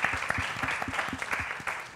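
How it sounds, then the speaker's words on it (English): A room full of people clapping steadily, a dense patter of hands that stays even for the whole stretch. "Big round of applause"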